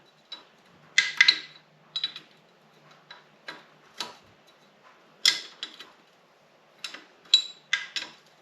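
An open-end wrench works on the cylinder bolts of a Honda Odyssey FL350 engine, giving sparse, faint metallic clicks and ticks at irregular intervals in a quiet room.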